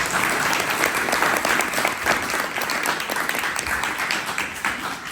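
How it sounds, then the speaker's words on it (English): A business roundtable audience gives its speakers a round of applause, loud close clapping from many people in a steady dense wash that holds for several seconds before easing slightly. "if we could just get one more round of applause for our speakers and for all of you."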